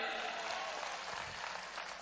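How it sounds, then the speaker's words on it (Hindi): A hall audience at a political rally in Tinsukia, Assam, claps for a family seated in the crowd, giving a steady wash of applause and cheering that fills the whole moment at even loudness. "तालियां इनके लिए, तालियां।"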